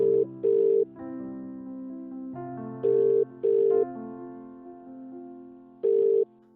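An outgoing phone call ringback plays as repeated short tonal beeps in pairs and a single, over a steady musical tone bed, with no one speaking.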